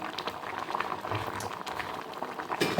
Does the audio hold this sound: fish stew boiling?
yes